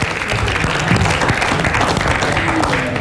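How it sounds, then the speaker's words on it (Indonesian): Audience applause at an Indonesian television quiz show rises as contestants finish an episode: a loud, thick wash of many hands clapping together, sustained evenly throughout with a faint crowd murmur beneath. "Kita berikan tepuk tangan"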